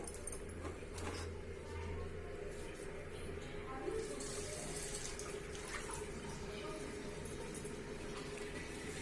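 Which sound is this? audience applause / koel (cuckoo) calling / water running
water running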